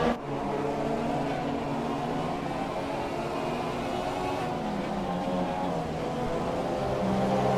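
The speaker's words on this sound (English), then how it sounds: "There's a replay of the double overtake with Fernando." Race car engines from the F1 2018 video game at the British Grand Prix, heard during a replay of a double overtake: a dense, steady high-pitched whine of several cars layered together, loud and continuous throughout, with no talk.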